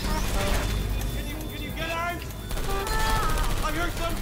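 Rapid bursts of turret gunfire from the Portal 2 video game, dense and loud throughout, mixed with game music, electronic effects and voices speaking.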